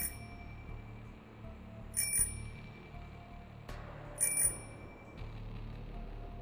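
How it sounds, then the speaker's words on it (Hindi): A bicycle bell rings twice in the dark, two short bright trills a couple of seconds apart over a low hum, with a sharp click between them. "बीच बीच में अंधेरे से साइकिल की घंटी जैसी आवाज़ सुनाई दे रही थी।"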